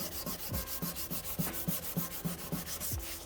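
Hand spot sanding the old clear coat off a 2012 GMC Denali headlight lens, rapid back-and-forth rasping strokes in an even rhythm of about three per second, close and alone.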